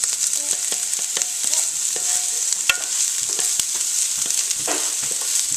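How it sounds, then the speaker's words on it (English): Garlic fries in a pan with a continuous bright sizzle, while a utensil stirs and scrapes it in irregular clicks and taps close up, with no talking. "so you want to keep stirring it just so it doesn't burn, doesn't scorch"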